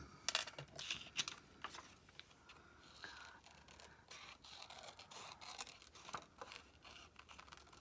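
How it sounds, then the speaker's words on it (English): Scissors fussy-cutting around a paper image for a journal, a close, faint series of crisp snips and paper rustles in an irregular rhythm, with no talking. "I am going to fussy cut around her a little bit"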